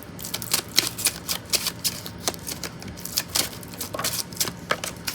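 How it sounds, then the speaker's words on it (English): A deck of playing cards is shuffled by hand before a card trick, giving a steady run of crisp riffles and soft clicks, close and fairly quiet with no talk. "I'm going to shuffle these."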